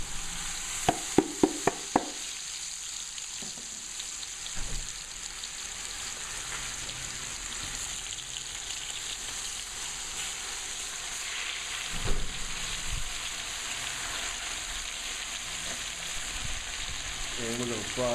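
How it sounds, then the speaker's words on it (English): Three pounds of pork butt fry in bacon drippings in a pan for Cajun jambalaya, a steady close hiss and crackle throughout with a few loud clatters and scrapes near the start and another bump midway. "leave the drippings in the pan so I can fry my pork in"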